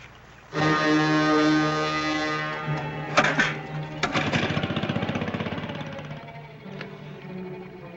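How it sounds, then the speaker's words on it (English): An air compressor starts abruptly and runs steadily with a loud, droning mechanical hum and a rapid pulsing chug. A few sharp knocks are heard partway through, and the sound eases slightly toward the end. "Do you mind starting the compressor?"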